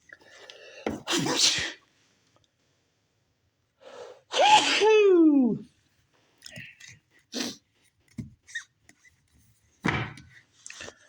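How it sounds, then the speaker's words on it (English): A few sharp, loud sneezes burst out in quick succession, with a drawn-out wheezy gasp in between and some quieter sniffs and breaths trailing after. "now I'm going to have a sneezing attack"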